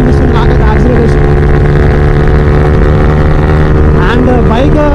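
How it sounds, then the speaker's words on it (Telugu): A motorcycle engine drones steadily and loudly as the bike accelerates smoothly, with someone talking over the continuous engine noise. "బైక్ యాక్సిలరేషన్ మాత్రం నిజంగా చాలా స్మూత్ ఉంది"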